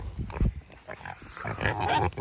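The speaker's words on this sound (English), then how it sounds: "What you doing, piggies?" Several farm pigs grunting close by in a short burst of low, rough snorts and grunts, with shuffling around them and no talk over it.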